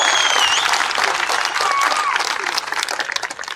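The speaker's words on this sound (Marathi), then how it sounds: "देवेंद्र फडणवीस साहेबांच्यासाठी जोरदार टाळ्या आपण वाजवाव्यात जोरदार" Audience clapping at a political rally speech, a dense burst of applause filling the clip, with a voice briefly audible over it before the clapping thins toward the end.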